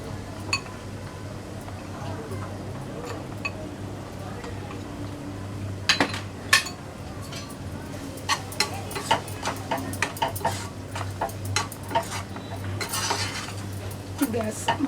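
Besan (gram flour) being stirred into an onion-tomato base in a pan for Maharashtrian zunka, with a steady low sizzle and rhythmic scraping and clinking of a spoon against the pan, growing busier after the first few seconds.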